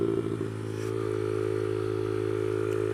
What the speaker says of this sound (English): Mini bike wheelies.